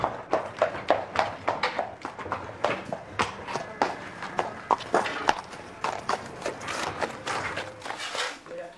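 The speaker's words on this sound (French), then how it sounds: "En avant, à cheval." Horses moving along in a riding stable, hooves clip-clopping in a steady, close rhythm throughout, with faint voices now and then underneath.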